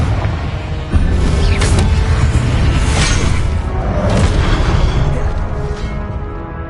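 A Confringo explosion spell in Hogwarts Legacy lands as a loud, rumbling boom with a whooshing burst, followed by sustained crackling and roaring rumble that stays heavy throughout.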